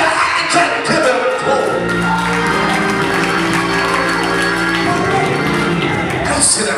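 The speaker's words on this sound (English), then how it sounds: "you might as well clap your hands and give him" A church congregation at a Seven Last Words service claps hands in a continuous, lively wash of crowd noise with scattered cheers. A sustained voice or music carries underneath the clapping.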